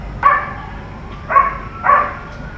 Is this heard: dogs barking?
yes